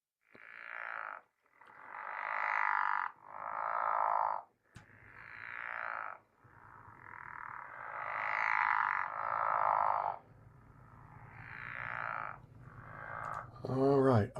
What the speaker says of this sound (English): here's what they sound like. Pickerel frog